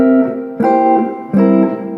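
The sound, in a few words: jazz guitar playing dominant drop 2 chords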